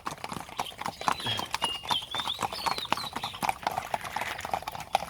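Horses' hooves clip-clop in a steady, uneven rhythm during morning exercise at a stable, fairly close, with faint whinnies and murmuring voices in the background.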